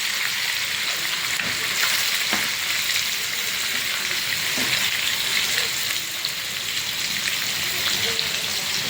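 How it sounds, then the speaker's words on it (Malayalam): Steady, loud sizzling of bitter gourd frying in hot oil for pickle, a dense continuous hiss with occasional faint clinks, up close and without speech. "എണ്ണയൊക്കെ നല്ല ചൂടായിട്ടുണ്ട് ഇതിലേക്ക് നമുക്ക് കുറേശ്ശെ ഇട്ട് കൊടുത്ത് ഇത് ഒരു ചെറിയ മതി വറുത്തെടുക്കാം"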